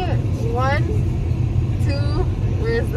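Steady low engine rumble and road noise from a car being driven, continuous throughout, with a person's voice chattering over it.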